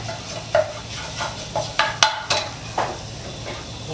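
Egg is stir-fried in a pan before Mama instant noodles go in, a spatula scraping and knocking against the metal in uneven strokes over a light sizzle, close and moderately loud, with no speech.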